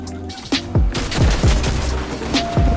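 Gunfire in the Fortnite video game: rapid bursts of booming shots, several overlapping blasts in under three seconds, loud and dense.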